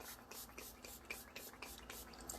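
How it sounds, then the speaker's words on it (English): Makeup setting spray misted onto a face from about six inches away, a rapid series of short airy spritzes in quick rhythm, close and soft, with no talking. "It's like a fine mist. You just kind of, I'd say 6 inches away from your face and just kind of spray, you know, in every area."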